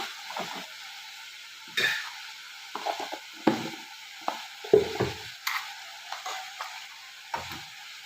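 Ginger garlic paste cooks in a pan for masala peanuts, a faint low sizzle broken by a series of irregular spoon scrapes and taps against the pan, close by and without talk.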